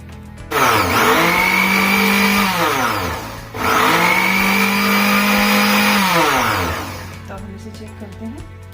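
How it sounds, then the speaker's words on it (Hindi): A loud mixer blends ghevar batter in two long bursts, whining up and winding down each time, with a brief pause between. "और फिर इसे हमें मिक्सर चलाना होगा।"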